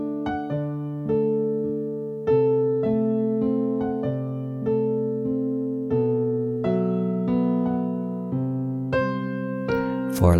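A piano plays the chords of a song with both hands together, steady ringing chords changing every second or so, close and clear with no talking.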